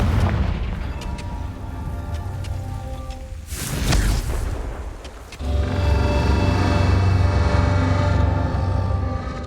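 A Confringo fire spell blasts in Hogwarts Legacy, one loud, sharp explosion midway through that gives way to a heavy, sustained crackling rumble, with quieter game sounds before it.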